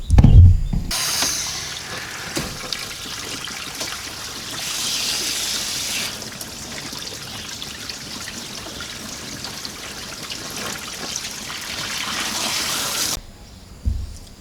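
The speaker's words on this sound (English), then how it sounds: "we'll be putting water in through here so that the water comes out from where the housing of the thermostat is" Coolant-system water flushing out of the thermostat housing on a Proton Inspira (Lancer 08), a steady close trickle and splash running for about twelve seconds before stopping abruptly.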